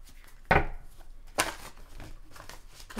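Two sharp bursts of large tarot cards riffling together, close and brisk, separated by a short pause, with softer handling noises between.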